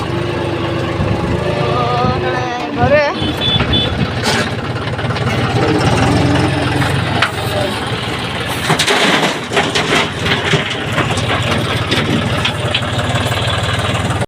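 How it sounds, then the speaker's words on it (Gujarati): A tractor engine runs at a steady rumble close by, loud and continuous, with a brief spoken word and clattering sounds over it. "તો આપણે ટ્રેક્ટર આવી ગયો"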